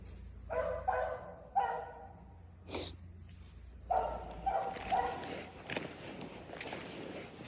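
Hunting dogs in rabbit training let out a few short, muffled barks and snorts at close range, spaced irregularly among footsteps and rustling, with a quieter stretch between bursts.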